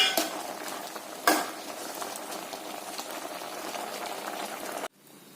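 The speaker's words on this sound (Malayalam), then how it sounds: "അവിയലിൻ്റെ കഷ്ണങ്ങൾ തിളച്ചു" Aviyal vegetable pieces simmer in a cooking pot with a constant bubbling hiss and one sharp utensil clink early on. The boiling cuts off abruptly near the end.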